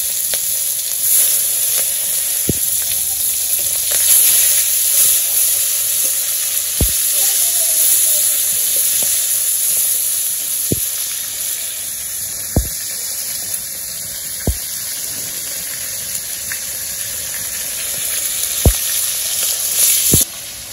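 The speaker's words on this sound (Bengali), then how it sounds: "তখন আমি মাছটা দিয়ে দিব কড়াইতে।" A hilsa fish head fries in oil in a wok over a clay village stove, a steady close sizzle with occasional sharp taps and scrapes from a utensil at irregular intervals.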